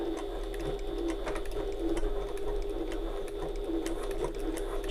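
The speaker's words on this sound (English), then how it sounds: "we're going to sew 1/8 of an inch or 3mm away from the seam edge" A sewing machine runs steadily and close by as it top stitches a bag seam, working slowly over several thick layers of fabric, with a continuous mechanical whir and rapid needle ticking throughout.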